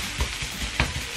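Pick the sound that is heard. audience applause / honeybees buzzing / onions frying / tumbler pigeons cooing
onions frying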